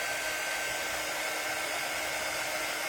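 A hair dryer blowing continuously to dry paint on a farmhouse wooden sign, a steady loud, close whooshing hum with no pauses or voices.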